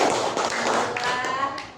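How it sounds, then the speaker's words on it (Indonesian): Pupils in a classroom clap together in a brief scattered round of light claps and taps, with voices chattering over them. "Tepuk tangan untuk kita semua."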